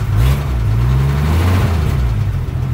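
A 1959 Willys Jeep engine runs close and loud, a steady low rumble with slight shifts in pitch as it holds near idle.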